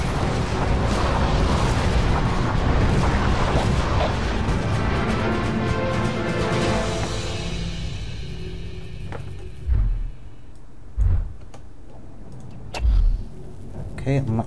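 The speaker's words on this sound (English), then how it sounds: "In fact, let's go for some artillery actually." Artillery barrage explosions in the video game Toy Soldiers: Cold War: a loud, continuous roar of combat noise fades out, followed by three separate deep booms spaced a second or two apart.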